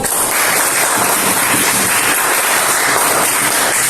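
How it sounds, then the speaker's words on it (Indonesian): An audience applauds a group of students after their presentation in a class session, dense steady clapping that stays loud and even from start to finish with no talk over it. "kita berikan aplaus untuk kelompok 1"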